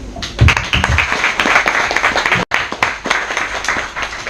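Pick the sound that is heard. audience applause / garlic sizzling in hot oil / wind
audience applause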